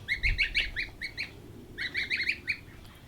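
Geese at a polytunnel garden honking in two quick bursts of repeated nasal calls, moderately near with a brief pause between, no talking.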